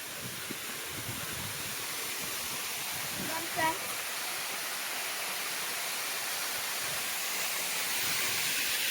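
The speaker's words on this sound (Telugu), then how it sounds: "ఇక్కడ అలా వాటర్ ఫాల్స్ అలా పడుతుంది" Samagiri waterfall near Araku pours as a steady, broad rushing hiss of falling water, loud and unbroken throughout, with a brief faint murmur of other sound partway through.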